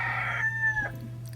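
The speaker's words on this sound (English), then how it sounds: "Excuse my loudmouth rooster outside." A loud rooster crows once just outside, a single drawn-out call with no voices over it.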